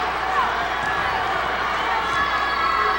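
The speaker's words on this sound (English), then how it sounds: "We got a pretty doggone good crowd here tonight." A large crowd roars and cheers steadily in a gym during a Class AA girls' state basketball finals game, a dense, continuous wall of voices filling the whole stretch with no break.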